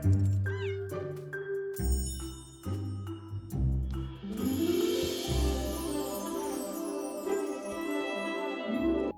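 A cat meows several times in the video game My Time at Sandrock, with bright chiming game music and jingles playing alongside it.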